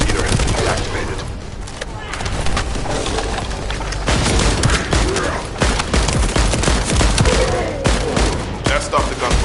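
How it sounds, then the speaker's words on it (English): Dense, loud gunfire in the sci-fi shooter The First Descendant, with rapid automatic bursts and booming impacts layered over game music and effects for the whole stretch. "That stopped the gunfire."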